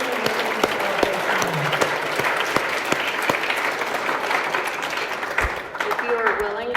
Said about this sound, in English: let's give tonight's speakers a round of applause